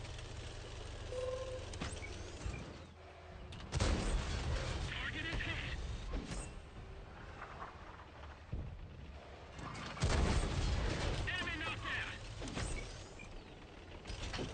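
Artillery in a video game: several deep distant booms with rumbling tails at spaced intervals, under mechanical background noise, while a player talks over it.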